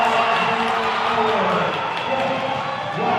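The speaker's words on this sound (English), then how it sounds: "You can hear the crowd that made the trip from Anne Arundel County" Crowd noise from spectators at a state semi-final volleyball match, a steady roar of voices in a gym filling the space, with some shouting and faint cheering and no distinct claps.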